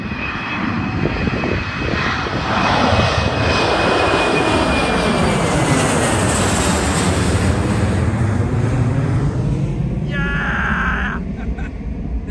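A small propeller airplane engine roars overhead, swelling loud then fading as it flies past, with a steady wind-like rush throughout.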